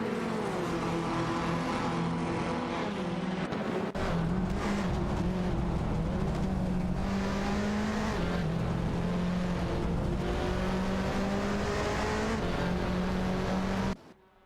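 Engines of race cars, including a Ford Focus RS and a Honda Civic, roar continuously in a racing video game, with steady revving tones rising and shifting before cutting out at the end.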